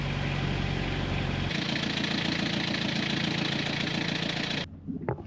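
A sailboat's engine idles in Panama, a steady low throbbing drone with a pitch shift partway through, running loud and continuous until it cuts out near the end, leaving faint knocks.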